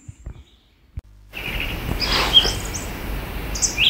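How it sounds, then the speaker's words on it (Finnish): Spring birds call in a forest at dusk, with a few faint chirps and tweets over a soft, hissing background after a nearly silent start, distant and sparse. "Hämärtyvässä illassa kuuluu usein vielä keväisten lintujen äänet ja muut luonnon äänet"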